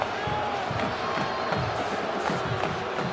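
A large football stadium crowd at the 2009 Oklahoma at Kansas game roars in steady disapproval, a dense continuous wash of voices with no clear breaks.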